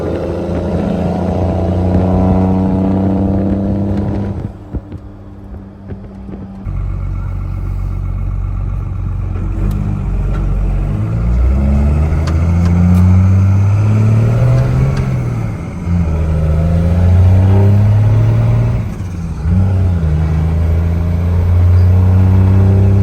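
A first-generation Cummins diesel truck with a Getrag G360 manual transmission drives and shifts, its engine loud and close, with revs that rise and fall between gear changes, a brief lull near the middle, then renewed pulls.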